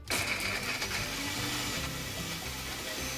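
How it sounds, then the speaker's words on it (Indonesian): Electric kitchen blender grinding spices with coriander and added oil into a smooth paste for Indonesian gepuk, a loud continuous whirring motor drone that runs unbroken from start to end. "Nah, ini kita blender bumbunya sampai halus."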